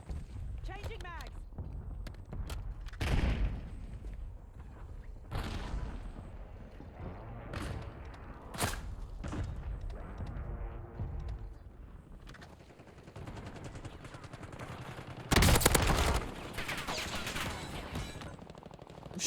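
Gunfire in Call of Duty Warzone on Rebirth Island, scattered bursts and single shots at varying distances mixed with game effects, while a voice talks over the action.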